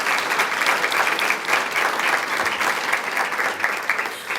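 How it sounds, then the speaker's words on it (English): Audience applause for a standing area council group at an evening event, a dense, steady burst of many people clapping together, fairly close and loud throughout. "Can you please give this group a round of applause?"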